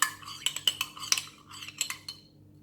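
Salad is stirred with spoons, producing a quick series of light metallic clinks and scrapes against the bowl, close and fairly loud, with no talking.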